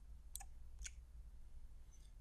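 Two quiet, sharp clicks about half a second apart, with a fainter tick near the end, over a low background hum.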